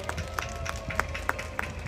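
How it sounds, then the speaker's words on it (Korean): A crowd at an outdoor political campaign rally in Gwangmyeong claps in a quick, regular rhythm, with faint, evenly spaced claps under a low murmur of background noise. "박수 한번 보내주십시오."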